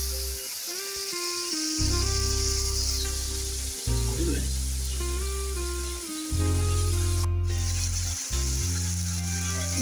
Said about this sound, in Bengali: বাটা পেঁয়াজটাকে একটু ভালো করে ভেজে নিতে হবে